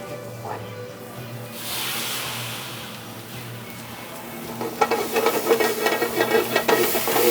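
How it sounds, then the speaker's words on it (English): Oil sizzles and crackles in a pan, quiet at first and growing louder and busier partway through, with a voice speaking over it. "Put a little bit of oil in there just to get that sizzling."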